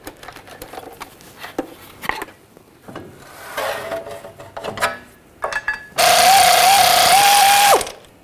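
Bolts are worked down on a rear CV axle of a 2006–2010 BMW 550i, with scattered metallic clicks and scraping, then a loud sustained buzzing power-tool run near the end, close by.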